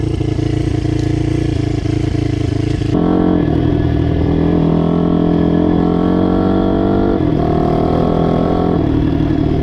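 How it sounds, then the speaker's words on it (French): Motorcycle climbing a steep hill, its engine droning loud and close under load, with a shift in pitch and a rise in revs partway through, plus some rattling clatter; no speech. "mais que ça monte tout seul cette bécane"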